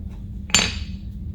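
A single sharp metallic tap of a hammer pressing a fender fastener in on a Kawasaki KRX 1000, bright and ringing briefly, standing alone against quiet low background noise.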